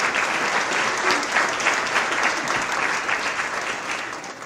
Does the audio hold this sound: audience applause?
yes